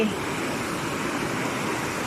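A waterfall beside a bridge on the Phu Soi Dao mountain trail in Uttaradit, Thailand, makes a steady, dense rush of falling water, close and unbroken throughout.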